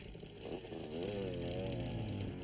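An out-of-control lawnmower engine whines and revs up, its pitch rising and wavering as it runs close and loud.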